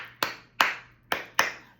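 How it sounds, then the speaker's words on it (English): A teacher in a classroom gives four sharp hand claps, close and crisp, in an uneven rhythm of two pairs with no voices over them. "You may also do a little hand clap."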